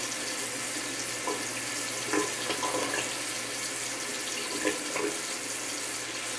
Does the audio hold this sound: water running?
yes